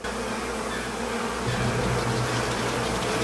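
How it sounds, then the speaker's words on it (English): A dense, loud swarm of bees buzzes continuously up close in the TV show Smallville, the droning hum thickening slightly midway through. "No, the kryptonite bees, they're after her."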